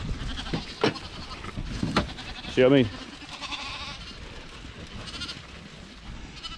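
Hungry sheep bleat and crowd around a farmer at feeding time on a farm, with one loud, wavering bleat standing out close by amid scattered animal calls and someone talking.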